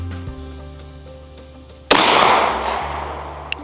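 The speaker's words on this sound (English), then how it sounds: "Next shot, Norma monolithic hollow point" A single sharp pistol shot firing a Norma monolithic hollow point round outdoors, loud and abrupt, followed by a long decaying echo with a faint click near the end.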